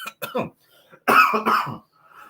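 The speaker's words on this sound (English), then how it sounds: "But this damn cough won't go away." A man with a lingering cough hacks several times in short harsh bursts, two quick coughs followed by a louder, heavier pair, close to the microphone.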